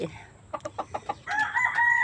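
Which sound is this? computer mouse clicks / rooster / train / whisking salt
rooster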